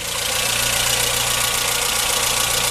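Ford Fiesta Endura 1.0 engine running steadily while warming up after coolant system work, a close, loud, even hum with a low rhythmic throb and a dense mechanical hiss.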